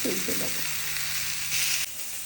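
Spices and turmeric hitting hot oil in a home kitchen pan make a steady close sizzle with a brief crackling burst near the start and a louder flare before it drops.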